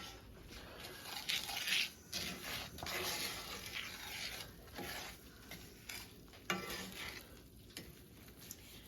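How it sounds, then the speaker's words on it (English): A spoon stirs chocolate gravy in a pan on the stove, giving soft uneven scraping and swishing strokes with a faint sizzle. The sound is close and quiet, with no talking. "Try to stir it until it dissolves."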